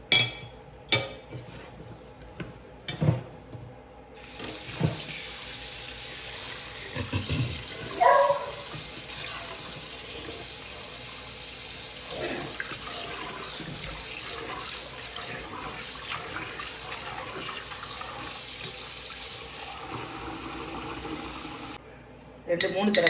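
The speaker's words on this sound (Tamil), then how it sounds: "ரெண்டு 3 தடவை தண்ணி விட்டு அலசியாச்சு" Raw chicken is rinsed in a home kitchen, with running tap water and splashing in a sink alongside clinks of dishes and utensils, steady and close, with short bursts of handling noise near the start and end.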